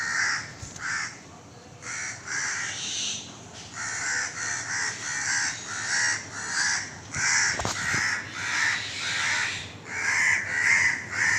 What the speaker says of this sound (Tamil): காக்காய் கத்துறதை வச்சோன்னே எனக்கு தெரிஞ்சு போச்சு